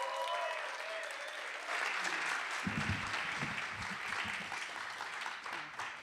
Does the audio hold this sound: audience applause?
yes